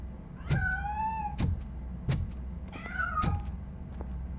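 A cat in the video game Robocop Rogue City meows several times, drawn-out rising and falling cries spaced between soft thumps, close and clear with no speech.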